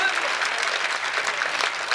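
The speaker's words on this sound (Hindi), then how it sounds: "एक बार जोरदार ताली पीट दो" Dense applause from a crowd at a Hindi comic poetry gathering fills the whole moment, a steady wash of many hands clapping.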